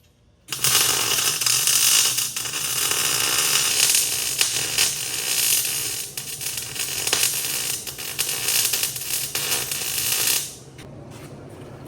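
MIG welding on a control arm mount of a 2002 Crown Victoria being prepped for a demolition derby, a close, loud, steady crackling sizzle with slight surges, running about ten seconds before stopping.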